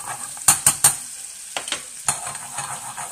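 Chicken supreme sizzles softly in a hot pan, with a few sharp utensil scrapes and taps cutting through the steady frying hiss; no talking.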